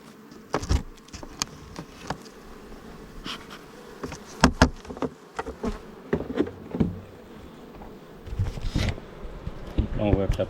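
Honey bees buzz around hives in a sunflower field, a steady close insect drone broken by sharp knocks and brief louder passes near the microphone, continuing for the full stretch.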